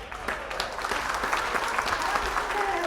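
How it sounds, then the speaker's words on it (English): A studio audience claps steadily and continuously, dense and fairly loud, with a few louder hand claps standing out through the crowd. "Everybody give a big round of applause to Mary."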